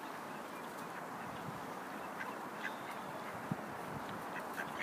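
Ducks being fed, giving a few scattered quacks over a steady outdoor background, fairly faint and spread through the stretch.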